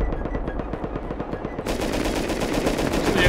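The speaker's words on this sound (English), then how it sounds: "This is the M249." An M249 machine gun firing in Rust, a rapid sustained automatic burst with evenly spaced shots that grows brighter and louder partway through, close and without talk.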